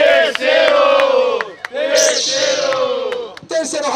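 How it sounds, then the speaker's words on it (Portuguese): A crowd at a Brazilian rap battle roars and yells in long, loud sustained bursts, close and dense, with a short break between swells. "Barulho para as rimas de Mano Zumbi"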